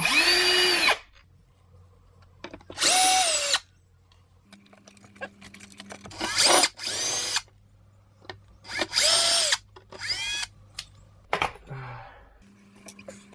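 A power drill backs screws out of a damaged King Song 16x electric unicycle, sounding as loud, close whirring bursts of a second or two, separated by pauses with faint handling noise.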